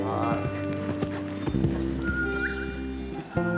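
A horse on a riding school ground, hooves clip-clopping in an uneven rhythm with a brief whinny, close and fairly loud, while people talk nearby.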